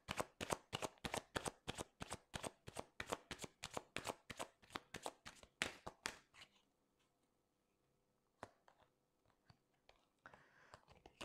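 A deck of tarot cards is shuffled close by. Crisp, rapid riffling snaps repeat in a steady rhythm for about six seconds, followed by near silence and a few faint card taps.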